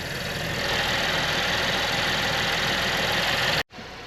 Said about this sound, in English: A little bit of ticking, but it almost sounds like the fuel pump more than anything. Might be lifters though.